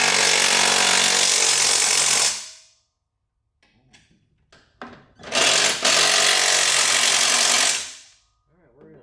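A power tool whirs loudly while tightening engine bolts during a Toro Timemaster mower engine swap. Two long, close bursts are separated by a quiet gap with brief clicks and rattles, and a short tail sounds near the end.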